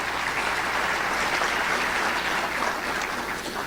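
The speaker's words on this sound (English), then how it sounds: "Let's give them all a big round of applause." An audience applauds at a Chamber of Commerce monthly luncheon, sustained, even clapping from a roomful of people that holds steady before easing slightly.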